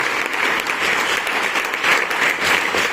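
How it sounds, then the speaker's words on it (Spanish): A church congregation breaks into applause during a sermon, a dense continuous wash of clapping heard close and loud throughout, with no speech over it. "De ese aplauso"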